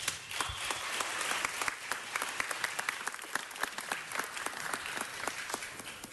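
A large audience applauds a U.S. Senator with sustained, dense clapping that holds steady throughout, close and full, with no speech over it.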